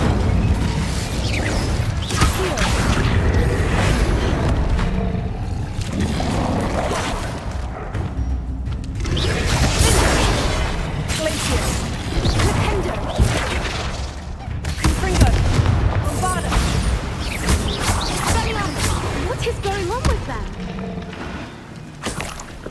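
Spell blasts and explosions crack and boom in steady bursts throughout a Hogwarts Legacy duel, dense combat noise with a voice speaking over it.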